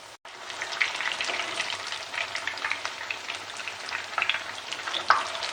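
Fish kebabs fry over a slow flame after being flipped, cooking until golden brown. A continuous close crackling sizzle with scattered pops runs throughout, alone and fairly loud.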